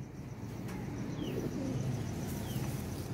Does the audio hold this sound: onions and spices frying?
no